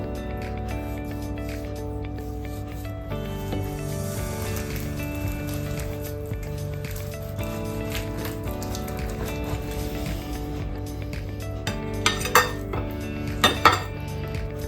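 Metal utensil scraping and clinking in a pan while cheese-filled pork loin rolls (girellas) are sliced, steady kitchen sounds with a few sharper clinks near the end.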